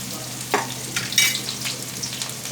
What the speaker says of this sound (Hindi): यहाँ पे मैं डाल रही हूँ प्याज। और प्याज को भूनेंगे अच्छे से।